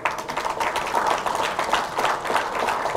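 Brief, close applause from a crowd at a real estate housing event in Wanica, a few seconds of steady dense clapping without talk.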